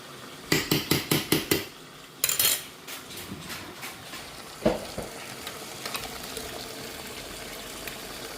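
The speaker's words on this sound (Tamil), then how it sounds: "இப்போ இந்த சமயம் நம்ம அரைச்சி வச்ச மசாலாவை இது கூட சேர்த்துறோம்" Ground masala paste is added to sautéed onions and fried, opening with a rapid run of loud metal taps and scrapes, then a steady sizzle under occasional spoon knocks and stirring, close with no speech.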